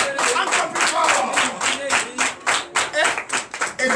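Congregation at a night deliverance church service clapping hard in a fast, steady rhythm, with voices calling out and cheering over the close, loud beat of hands.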